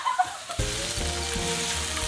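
Garlic frying in a pan with chili for spicy chicken feet adobo, a quiet start followed by a sudden steady crackling sizzle that continues evenly, no talking.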